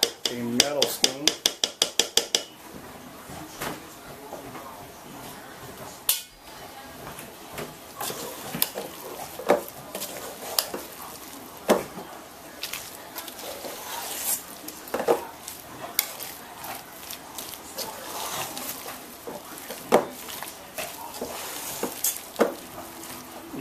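A metal spoon clatters and scrapes against a pan while tossing chopped smoked beef brisket, the sizzle of frying running underneath; quick rapid clinks at first, then slower irregular scrapes and knocks.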